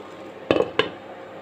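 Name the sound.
lid put on a cooking pan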